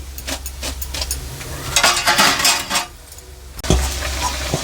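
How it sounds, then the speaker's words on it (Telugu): Onion bondas deep-frying in hot oil, a steady bubbling sizzle with clinks of a metal utensil against the pan and soft stirring scrapes, close and fairly loud, with no talk. "అన్నీ మనం ఇట్లా డీప్ ఫ్రై చేసుకోవాలి"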